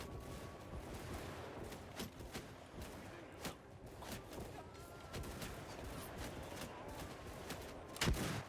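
Musket volleys in Mount & Blade 2 Bannerlord (Shokuho mod, Shimazu gun samurai), scattered sharp shots cracking over a dense battle din, one louder blast near the end.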